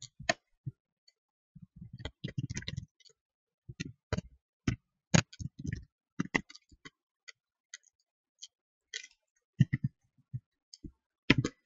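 Keys clatter on a computer keyboard in short, irregular bursts of sharp clicks with brief pauses between words, close and fairly quiet.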